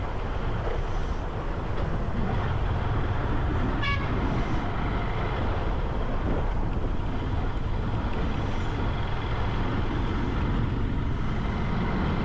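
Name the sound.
train passing at a railway crossing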